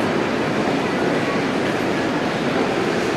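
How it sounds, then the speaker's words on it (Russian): An electric commuter train departs from a railway station, a loud, steady rumbling roar of the moving carriages filling the whole stretch without a break. "Электричка уходящая куда-то, пока не знаю куда."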